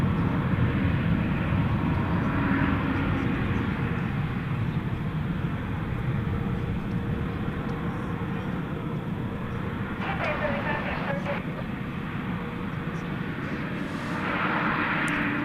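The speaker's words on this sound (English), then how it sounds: "So Qatar now going to take off on the second leg of this double play to Doha." A Qatar Airways airliner takes off at night at DFW Airport with a loud, continuous broadband engine roar that holds steady throughout, while a voice speaks over it.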